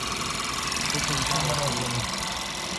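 A rear-mounted car engine idles with a steady hum throughout, a low rumble and faint rhythmic knocking, heard close up, while voices murmur indistinctly over it.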